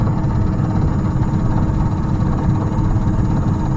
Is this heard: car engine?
yes